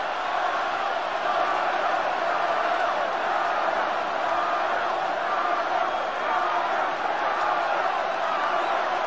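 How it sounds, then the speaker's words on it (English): Dense, steady roar of a packed football stadium crowd at a Green Bay Packers home game against the Minnesota Vikings, a continuous loud wash of cheering and shouting with no pauses. "And this crowd is trying to will Donald Driver to get to his feet."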